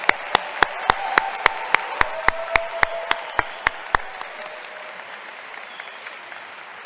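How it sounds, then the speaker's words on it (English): Family, friends and educators applaud the Geisinger medical class of 2024 at a white coat ceremony; a run of distinct, evenly spaced claps rings out for about four seconds over softer clapping, then quickly fades to quiet room ambience. "please join me in a round of applause for the class of 2024"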